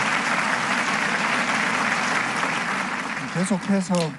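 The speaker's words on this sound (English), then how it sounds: "Let us give another round of applause to the governors and parliamentarians from Korea" Audience applause for visiting governors and parliamentarians from Korea at a peace federation rally, a steady dense wash of many hands clapping throughout, with a voice starting to speak over it near the end.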